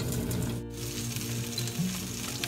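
Dorado fish frying in a pan, a steady close sizzle with faint stirring and a short dip near the start, no voices.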